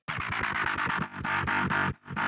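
A dirty, muddy midrange EDM synth layer growls in distorted pulsing stabs, thick and buzzy, playing continuously with a couple of short dips, loud and alone.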